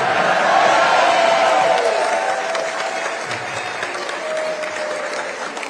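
A large audience claps and cheers at Prime Minister Narendra Modi's speech in Nigeria, with dense, steady applause that starts loud and tapers slightly while staying sustained throughout.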